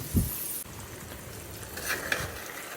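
Fried onions added to a pan and stirred while making egg korma, a low sizzle under a few scraping and clinking stirs, with a brief louder clatter at the start.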